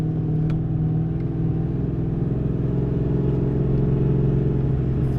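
A BMW E30 fitted with an M60 V8 engine on its first drive, producing a steady, loud low engine rumble with rich harmonics that holds even throughout, with a slight rise in pitch toward the end and no talk.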